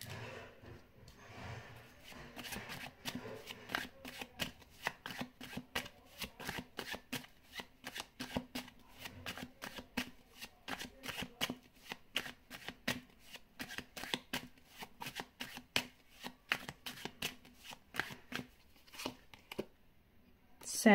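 A deck of tarot cards is shuffled close by in rapid, repeated flicks and riffles that run almost without pause, with a brief quiet just before the end.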